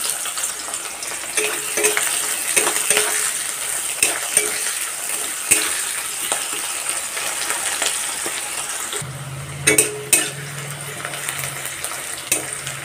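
Sliced onions sizzle and crackle in hot oil in a pan, a continuous bright frying hiss with occasional stirring clinks and a low hum toward the end.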